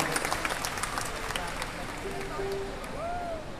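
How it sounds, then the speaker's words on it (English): An audience at a live concert in an Alabang mall applauds in a dense patter of claps that fades slightly, with crowd murmur and a brief whistle near the end. "Come on, have a round of applause for them."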